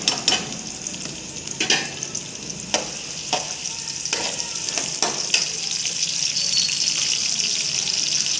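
Sliced onions sizzle steadily in hot oil in a pan for potato biryani, a dense close crackle broken by several sharp scrapes and clinks of a stirring spoon, with no talking.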